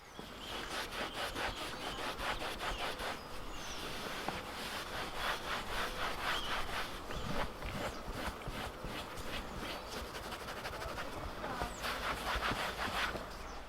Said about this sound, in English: I decided to work the main panels of the seats over with an APC primed super soft detailed brush